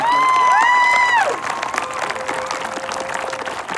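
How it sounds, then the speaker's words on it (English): Applause and cheering at a high school band's public performance. It opens with sharp rising whistles and whoops, then settles into sustained clapping from the crowd. "So if we could please have a round of applause for the administration and our staff, that'd be great."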